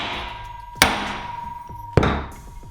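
An oversized socket hammered against the end of a bolt to drive it out, giving two sharp, ringing metallic strikes about a second apart, each decaying with a lingering metallic tone, close and loud.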